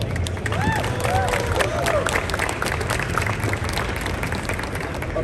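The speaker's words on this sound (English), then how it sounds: "So I just want to give a round of applause for all of them really quick" Crowd applause with scattered cheers at the SEMA show, a continuous wash of clapping and hubbub with a few voices calling out over it.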